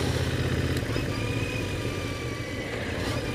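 Royal Enfield Interceptor 650 parallel-twin motorcycle engine running at low revs, a steady close rumble with low pulsing throb and faint whine, alone without talk.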